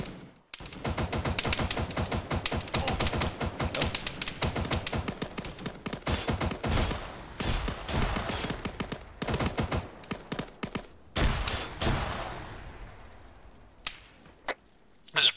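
High-explosive fire in Arma 3: rapid, crackling bursts of gunfire and sharp blasts in dense volleys, with brief pauses and a few isolated cracks near the end.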